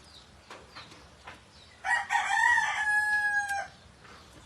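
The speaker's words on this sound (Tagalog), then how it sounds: "Good morning, manok." A rooster crows once nearby, a loud drawn-out call lasting nearly two seconds against quiet morning background noise.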